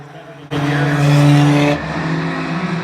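Race cars of the Outlaw Division roar around a speedway oval, a loud sustained engine howl swelling as a car passes close, then easing back to a steady background drone.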